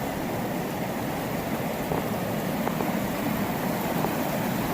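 Steady rushing water of the Tyres River, a broad continuous wash of flowing noise with no pauses, fairly loud and close.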